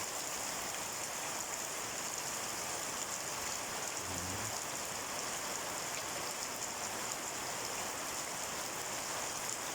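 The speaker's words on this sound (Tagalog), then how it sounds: "Walang tigil ang ulan." Steady, dense rainfall pours without pause, a loud even hiss filling the whole stretch with no voices.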